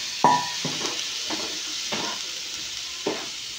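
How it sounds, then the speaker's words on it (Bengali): A spoon stirs semolina pulao in a pan while small splashes of water go in, giving about five separate scraping, hissing strokes spaced a half-second to a second apart against a faint background hiss, with no talking. "অল্প জল দিয়ে দিয়ে নাড়বো"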